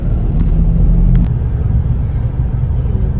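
Heavy road traffic in Manila: a loud, continuous low rumble of engines with a few brief, sharp high squeaks or clicks near the start, close and steady throughout, with no talk.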